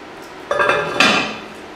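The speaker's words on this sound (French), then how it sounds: "on va mettre le couvercle" A lid goes onto a cooking pot (a cocotte) while a pot-au-feu is made: two close metallic clanks about half a second apart, the second ringing out briefly.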